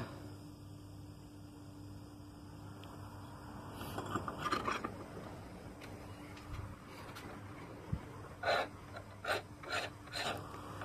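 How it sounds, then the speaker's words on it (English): A hand file works dovetails on a metal mitre plane, giving faint, close rasping strokes, with a few sharper scrapes in short bursts toward the end. "So I'm just going to start filing those on now, mark them out."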